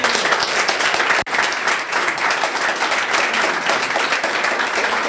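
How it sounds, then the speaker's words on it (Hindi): Sustained audience applause at a Hindi-language stage event, dense and loud across the whole stretch with a brief dip near the start, broad even clapping from a large seated crowd. "ताली बजा दीजिए।"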